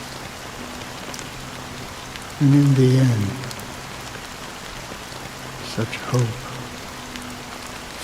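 Steady rain pours throughout a Honkai: Star Rail cutscene, a constant hiss beneath a voice that speaks briefly in two short bursts.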